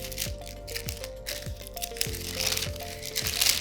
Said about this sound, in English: unfold the collection tissue paper